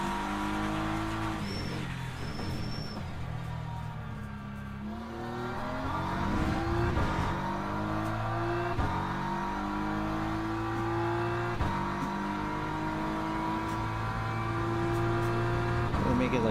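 Race cars in the Le Mans racing video game rev and accelerate, engine notes climbing and shifting through gears in steady sweeps, with a brief tire squeal early on and a continuous loud motor drone throughout.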